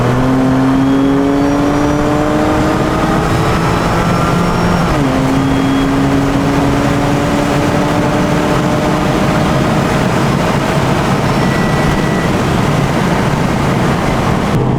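Audi S4 on a quarter-mile drag pass, engine pulling hard and loud up through the revs with rising whine, a gear shift after about five seconds, then a sustained roar.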